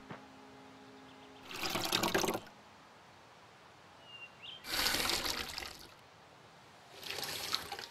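Watering plants in the farming video game Fae Farm produces three separate bursts of splashing, pouring water, each lasting about a second, separated by quiet pauses.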